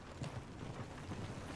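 Horse hooves clip-clop at a riding pace in Red Dead Redemption 2, faint and low in the mix as a steady run of soft, repeated hoofbeats with no talking.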